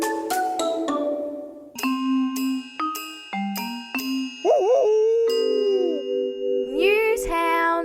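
A cartoon dog howl serves as a news-hound sound effect: bright chime notes ring first, then a melodic tune plays, and a long wavering howl rises over it, loud and close.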